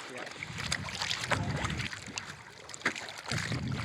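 An electric hydrofoil board at full throttle skims across open water, giving a steady rushing wash with splashes and wind buffeting on the microphone throughout.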